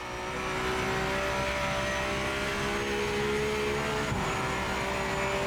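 A racing car's engine in the Project Motor Racing video game holds a steady, loud, even drone throughout, with no one speaking over it.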